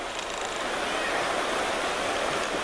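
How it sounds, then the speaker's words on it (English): A small stream flowing down to join a river gives off a steady, even hiss and rush of running water with no other sounds. "That's the river down there."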